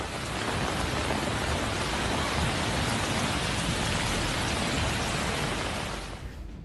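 Very heavy rain from Cyclone Shaheen in Oman pours in a dense, steady roar that holds loud and even, then drops slightly at the end; no voices.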